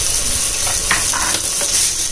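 Onions, green chillies, ginger and garlic fry in a pan with a steady, close sizzle and some stirring scrapes; no one speaks.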